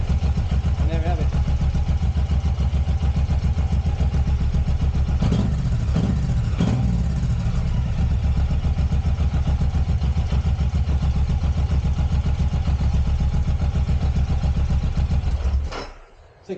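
A Suzuki M109R motorcycle engine idles steadily just under 1,000 rpm, a continuous rumbling putter that holds even before cutting off abruptly near the end.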